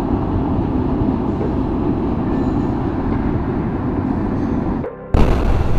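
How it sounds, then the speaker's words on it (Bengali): A train rumbles across the Sevoke rail bridge near Siliguri on its way from Guwahati in Assam, making a loud, steady low rumble with a sharp jolt near the end. "আসাম গুয়াহাটি থেকে ট্রেন ঢুকছে শিলিগুড়ির দিকে।"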